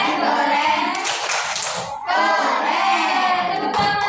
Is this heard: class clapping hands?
yes